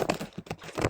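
Keys tapped on a computer keyboard while entering a gluten-free recipe search, a quick uneven burst of close clicks with no talking.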